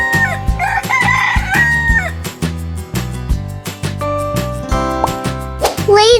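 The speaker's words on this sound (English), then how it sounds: "Chicken." Loud cartoonish chicken clucks and a rooster crow ring out over a bouncy musical backing in an animal-guessing game, the bird calls bright and repeated near the start and again at the end.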